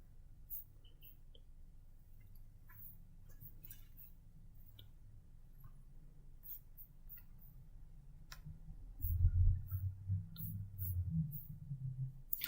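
Soft computer mouse clicks in QuickBooks Online payroll setup, a scattering of faint, sharp ticks over quiet room hum, with a low rumble swelling near the end.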